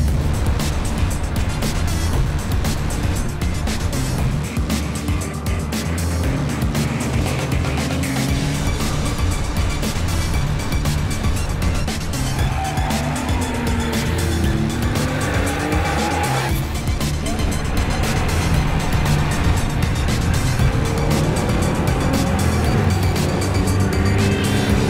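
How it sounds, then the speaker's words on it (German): A Nissan Skyline GT-R with well over 600 hp drives hard on the Nürburgring during a performance track day, its loud engine roaring continuously alongside squealing tires and other cars passing throughout. "Sahnestückchen hier, Nissan Skyline GT-R."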